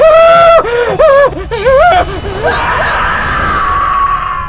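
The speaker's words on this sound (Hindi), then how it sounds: "ये चीख कैसी?" A woman screams several times in loud, wavering bursts in a horror story scene, then breaks into a gasping, moaning cry over background noise, with no speech.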